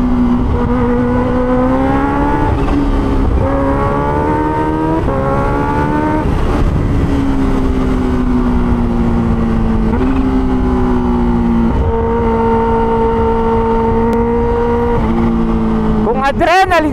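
A Kawasaki H2 Carbon superbike engine roaring close up, revving hard and climbing through several gear shifts, pitch rising and dropping between shifts.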